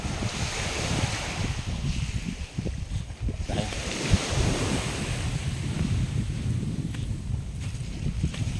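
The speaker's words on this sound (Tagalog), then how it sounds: "Dagat." Sea waves wash steadily onto a beach at Sitio Tangal in Palauig, Zambales, a continuous surf roar with gusty wind buffeting the microphone and no speech.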